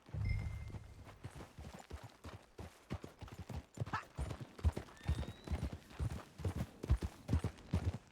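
Hooves clip-clop in a steady galloping rhythm from a horse in the video game Red Dead Redemption 2, with a brief whinny-like tone early on and a faint voice low in the mix.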